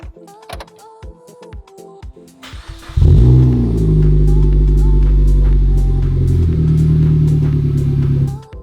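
A Suzuki Swift turns over with a few clicks and short chimes, then its engine catches and settles into a loud, steady close idle for several seconds.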